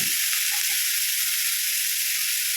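Onion and tomato sautéing in a pan with curry leaves and salt, a steady close hissing sizzle without pause.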